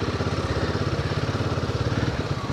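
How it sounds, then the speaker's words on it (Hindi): Motorcycle engine chugging steadily with a rapid, even pulse as the bike fishtails over slippery clay mud on a rough mountain trail, loud and close with no talk. "बाइक फिशटेल करते हुए जा रही है पूरी"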